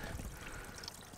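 Water trickles steadily into a bucket lined with rocks and algae in the woods, a faint, continuous splashing dribble with no voices.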